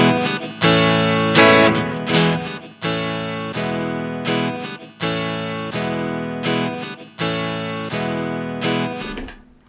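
Looper pedal playback of a distorted electric blues guitar phrase, repeating in bars that cut off early and restart with a stumbling gap, loud with no voices.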